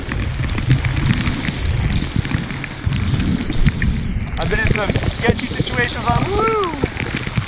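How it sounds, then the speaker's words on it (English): Heavy rain pours down on a kayaker paddling a Predator PDL on a stormy day at Cockroach Bay, a dense steady hiss of rainfall on water and gear right up close, with someone talking over it throughout. "I didn't really know it was gonna rain this bad"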